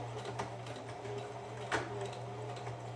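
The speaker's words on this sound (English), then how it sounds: "I'm gonna stitch in the ditch of my side seam" A sewing machine stitches in the ditch along a garment side seam, a low steady mechanical whir with soft clicks, fairly quiet and continuous with no talk.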